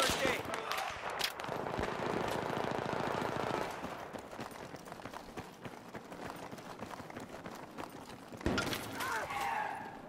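Rapid automatic gunfire from a video game team deathmatch, dense bursts of shots with running and action noise, loudest at the start and again near the end, with no talk.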